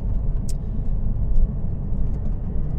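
A Porsche 997.1 Targa 4 with a manual gearbox drives over cobblestones, its engine a low, continuous rumble heard from inside with steady road noise and no talk.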